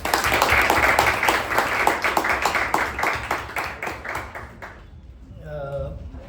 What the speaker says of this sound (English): And to Apoorva and to Saketh, let's give a bigger round of applause.